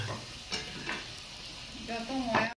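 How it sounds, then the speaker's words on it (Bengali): Hot oil sizzles steadily as luchi dough deep-fries, with a few utensil scrapes and a brief voice near the end. "ফুলকো ফুলকো লুচি ভাজা চলছে এখন"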